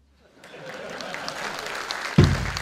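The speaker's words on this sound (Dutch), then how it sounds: "Hier stond dan de mensen klappen" Applause from a crowd at a carnival prince installation in Venray, a steady moderate patter building through the clip, ending in a loud low thump near the end.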